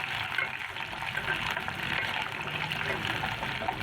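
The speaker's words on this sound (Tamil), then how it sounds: "யாருக்கெல்லாம் இந்த எண்ணெயில் இந்த வெங்காயம் போட்டோன்னே அந்த சவுண்டும் அதை நல்லா வதக்குறதும் பிடிக்குன்றது சொல்லுங்கள்" Small onions frying in hot oil for a traditional Tamil lunch, a steady broad sizzle and hiss running continuously and close throughout, with no talk over it.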